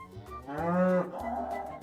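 A cow gives one long, loud moo that swells in the middle and then trails off, heard alone with no talking.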